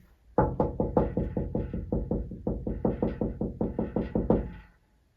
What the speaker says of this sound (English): I'm not saying anything now, I'm just knocking.